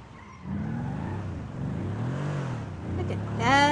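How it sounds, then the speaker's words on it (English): A car engine in GTA 5 roleplay revs up and climbs in pitch, loud and close, with a voice talking over it. "Doesn't that engine sound amazing?"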